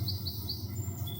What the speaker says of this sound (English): Sounds of a song sparrow